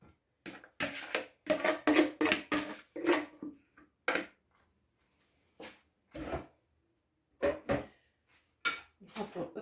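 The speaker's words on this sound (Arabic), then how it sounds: "باش نصبوا الليتو نتاعنا في السلاديه بالطريقه هذه فوالا" Lettuce tipped into a salad bowl for a Caesar salad: a series of short, close rustling and clattering bursts with brief gaps between them, moderately loud and alone.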